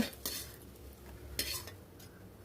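Finely chopped chow chow is sautéed in a pan with a soft, quiet sizzle, broken by a few sharp spatula scrapes and taps against the metal.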